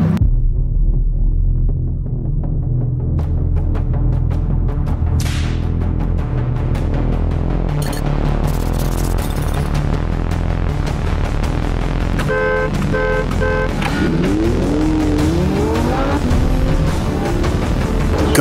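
A Lamborghini Huracan Performante engine thrums loudly at close range, its note rising and shifting as it accelerates, with a brief horn-like toot and sweeping tonal whines in the latter half.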